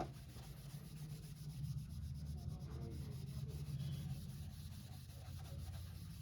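An eraser rubs across a classroom board during a civil engineering surveying lecture, giving a soft steady scrubbing sound with no talk over it.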